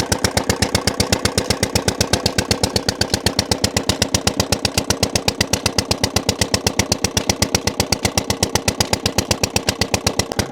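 A Peter diesel engine running, a steady rapid chugging thump at an even pace, loud and close, with no voices.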